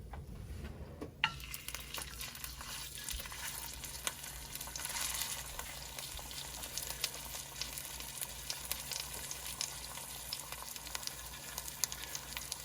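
Beef short ribs searing in a pan for a bolognese, a steady crackling sizzle that holds throughout with small pops and spits, fairly close and without talk.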